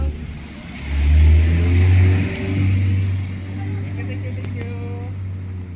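A car drives past on a road at a park in Tagaytay, its low engine rumble swelling as it nears and then easing off, while people chat nearby.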